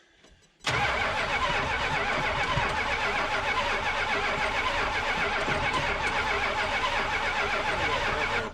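A Dodge truck's big block 440 engine, long neglected, cranks briefly and catches, then runs loud and rough at a steady high idle close by with no talk over it.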